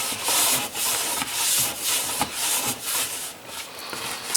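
A hand rubs and presses paper construction strips flat, producing continuous close dry swishing strokes in a steady back-and-forth rhythm with no talk.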